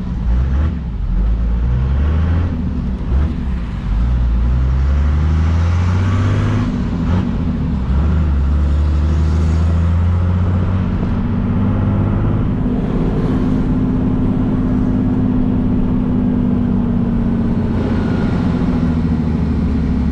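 A Chevrolet Silverado pickup fitted with a six-cylinder MWM diesel rated at 400 hp revs hard and continuously, its loud deep engine tone rising and falling in long sweeps, close by with no talk.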